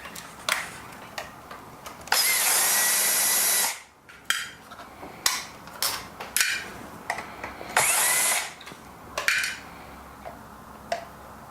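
A power drill removing screws from a chassis, two sustained whirring bursts of a few seconds each between many short clicks and clatters of parts being handled, close and moderately loud.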